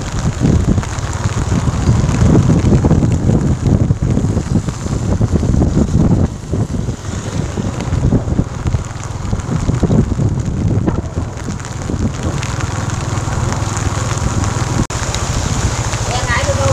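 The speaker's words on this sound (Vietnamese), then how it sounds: "Lúc này thì trời mưa cũng khá to." Heavy rain pours steadily in Hue after Typhoon Vamco, a loud dense hiss with wind buffeting the microphone throughout.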